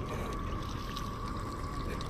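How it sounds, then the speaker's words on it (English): Water pours steadily into a cooking pot in a video game kitchen, a continuous splashing trickle that runs at even loudness for about two seconds with a faint tone held underneath and no voices. "they all start with putting some water in the pot"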